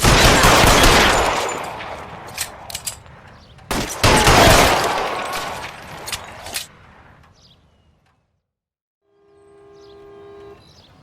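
Gunfire from a shootout in the crime game L.A. Noire: dense loud volleys and scattered sharp shots that thin out and fade to silence, followed by a faint tonal hum.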